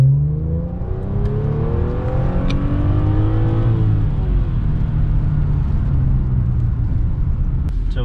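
An Audi S4 B8 engine revs loudly as the car accelerates, the pitch rising steadily through a gear and continuing with a strong, sustained roar up close.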